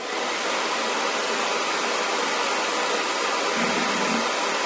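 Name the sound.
hair blow dryer running on cool air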